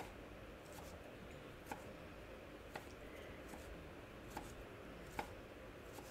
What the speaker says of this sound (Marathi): चिरून घेते मी भाजी.